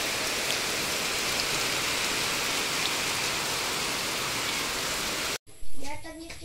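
Steady, dense rain hissing loudly and continuously, then cutting off abruptly near the end as a brief bit of indoor sound and movement takes over.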